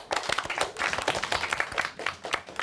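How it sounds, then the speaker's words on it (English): Primary school pupils clapping for a classmate in a classroom, a burst of many small hands with an uneven, lively rhythm, close and fairly loud. "Let's give him a big clap"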